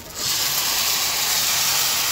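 Rice-flour vellappam batter poured into a hot cheenachatti pan bursts into a loud, steady sizzling hiss that starts suddenly and holds without a break.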